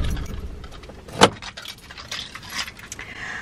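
A car engine is switched off and keys jangle in a single sharp burst inside the vehicle, close and fairly loud against a quiet cabin, followed by faint rustling.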